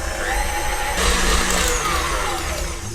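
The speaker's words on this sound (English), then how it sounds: "reduce the speed and add the plain flour and the almond meal and mix well" Electric mixer whirring steadily as flour and almond meal are mixed into cake batter, a close, continuous motor hum that swells slightly partway through.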